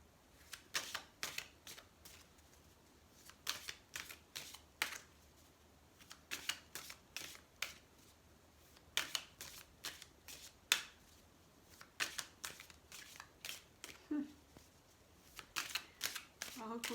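Tarot cards are shuffled and laid out close by in quick bursts of crisp flicks and slaps, coming in irregular clusters with quiet gaps between them.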